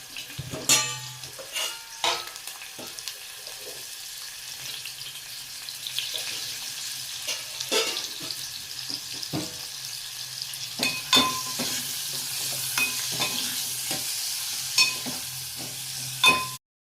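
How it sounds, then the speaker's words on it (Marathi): Onion sautéing in a pan for an egg curry, a low continuous sizzle broken by frequent spatula scrapes and knocks against the pan, close by, with a faint running-water sound at times. "कांदा परतून झालेला आहे"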